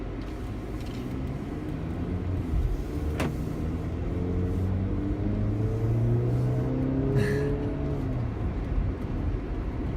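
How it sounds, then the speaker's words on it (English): A 2015 Jeep Cherokee Latitude 4x4 accelerating on the road, a steady, moderate engine drone rising gradually in pitch under broad road and wind noise, heard from inside the cabin. "Let's film a little acceleration here."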